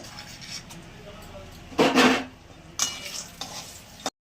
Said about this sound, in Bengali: বড়িগুলো একটু লাল করে ভেজে নেব।